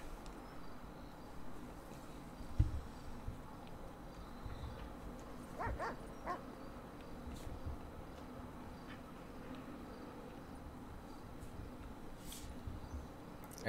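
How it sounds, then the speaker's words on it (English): A dog indoors gives a few faint, soft yips and whimpers, with a single brief bark-like knock, under a quiet steady room hiss with no talking. "Don't bring that dog in here."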